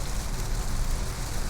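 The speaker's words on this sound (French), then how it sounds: "il pleut beaucoup" Heavy rain drums on a car driving along a motorway, a dense and even roar that fills the whole moment without any voice.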